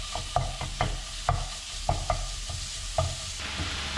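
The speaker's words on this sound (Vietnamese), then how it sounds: "Rồi tiếp theo thì mình sẽ cho cái thịt nạc xay vào trong chảo." Minced lean pork sizzles steadily in a hot pan with no added oil, broken by a series of sharp scraping stirs roughly every half second, close and fairly loud with no talking.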